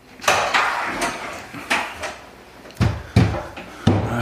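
Several drawers slide and thud shut one after another, wooden knocks and scrapes in an irregular rhythm, close and fairly loud.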